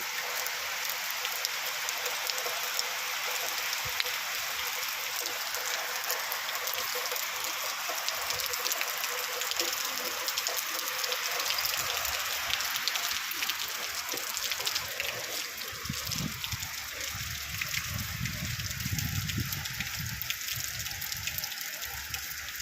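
Steady, heavy rainfall pours down continuously, a dense hiss of drops on surfaces with water gushing underneath, with no voices.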